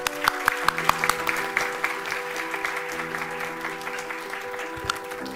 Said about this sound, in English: Let's welcome her with a resounding applause.